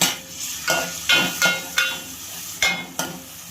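Onion and tomato being cooked in a pan for a Marathi matki dal amti, with a spoon scraping and knocking against the pan in sharp, repeated strokes over a faint sizzle, near and moderately loud.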